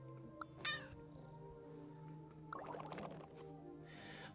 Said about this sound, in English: Can I talk with kitty cat? Meow.